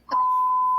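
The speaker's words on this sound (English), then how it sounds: "Oh, you're beeping." During a phone call, a single steady electronic beep from the phone sounds clearly and holds for under a second.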